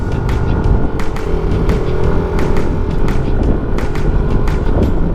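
A 110cc Honda Click scooter carrying a light load climbs a mountain road between Capas and Botolan, its engine droning steadily and close with wind noise and scattered ticks and clacks, no talking.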